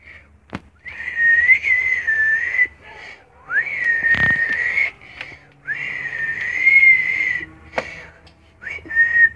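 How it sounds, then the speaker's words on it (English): A person whistles loudly and close, in several long rising-and-falling calls separated by short pauses, with a few sharp clicks in between. "I'm gonna whistle."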